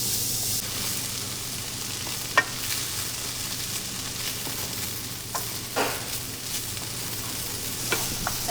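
Onions sauté in a pan while making a lasagna sauce: a continuous, even sizzle with a few soft clicks and scrapes of stirring, heard close and without voices.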